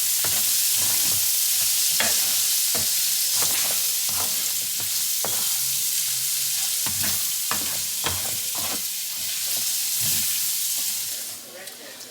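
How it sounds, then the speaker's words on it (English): Bacon frying in a good skillet, a steady loud sizzle with repeated scraping clicks of a spoon turning the meat, continuing throughout. "I just put the bacon back in there to fry just a little longer"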